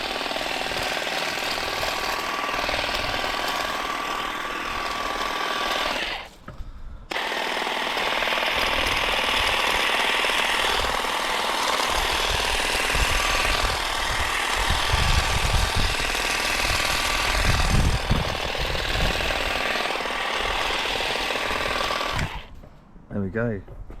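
An Ingco cordless garden shear cutting through branches, a loud continuous buzzing, rattling drone that runs almost without a break, dropping out briefly twice, with low clunks where the blades bite wood.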